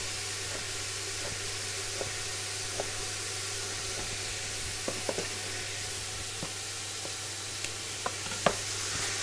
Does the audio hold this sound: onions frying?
yes